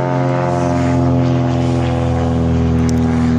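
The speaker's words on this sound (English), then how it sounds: "Sorry, there's an airplane." An airplane drones overhead, a steady, loud propeller hum with strong layered tones that holds throughout without fading.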